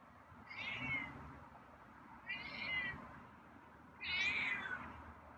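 A feral cat meows three times on a hot day, drawn-out moderately loud calls spaced about two seconds apart over faint background noise.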